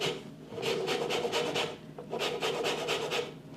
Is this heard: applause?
no